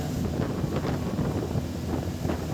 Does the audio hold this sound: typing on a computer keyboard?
no